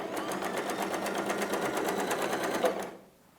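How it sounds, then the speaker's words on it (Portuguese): A domestic sewing machine runs fast on stitch setting 4, a rapid, evenly pulsed mechanical chatter at close range that holds steady for nearly three seconds and then stops abruptly. "E olha como a máquina já costurou mais rápido."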